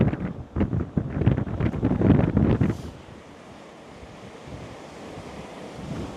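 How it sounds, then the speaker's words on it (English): Strong seaside wind buffets the microphone in loud, gusty rumbles with surf-like roar, then eases into a lower, steadier blow for the second half. "you can hear me okay with all this wind around"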